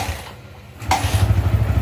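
A Yamaha Vixion NVL motorcycle, left unused for a month and running on a weak battery, cranks and catches, then settles into a loud, close, steady rumbling idle right after a brief clack.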